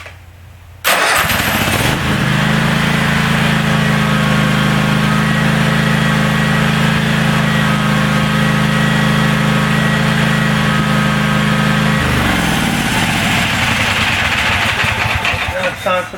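DR brush hog small engine cranking and catching without choke, then running loud and steady at a high idle for about ten seconds before the pitch drops as it throttles down.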